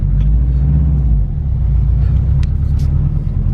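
A turbocharged car engine, just primed, runs with a close, loud low rumble that dips briefly partway through, joined by a few faint clicks.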